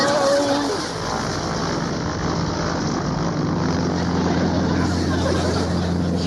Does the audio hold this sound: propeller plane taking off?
yes